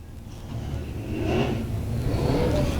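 A USAC sprint race car roars past on the Canyon Speedway track, its engine swelling louder and higher as it nears, with more engine drone close behind.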